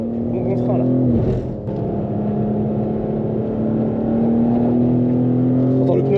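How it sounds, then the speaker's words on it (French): A BMW M2 engine drones steadily at high revs on the Le Mans circuit while tires squeal and scrub on the track, loud and continuous. "En train de déchiqueter le pneumatique"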